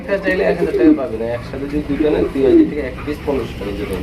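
Pigeons at a market stall selling pigeons with eggs and chicks, cooing in repeated soft, rolling calls close by, mixed with background chatter.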